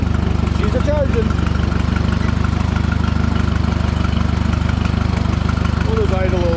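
A small tractor engine idles steadily and loudly at close range, a continuous low rumble with no change in pace, with faint voices or other noises occasionally over it.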